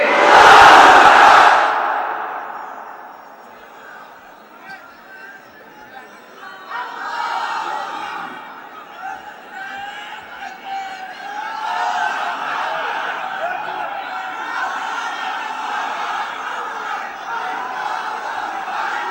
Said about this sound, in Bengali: সবাই মিলে তিনটা তাকবীর পড়েন